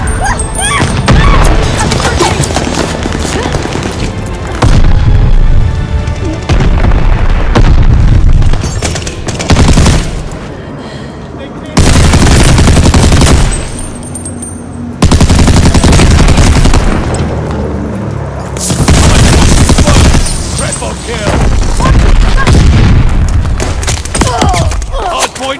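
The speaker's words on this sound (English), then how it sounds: "Allies called a bombing." A bombing run in the Call of Duty Vanguard shooter game brings loud, continuous explosions and bursts of gunfire. Heavy booms and crashes come in long waves with brief lulls between them, dense and close.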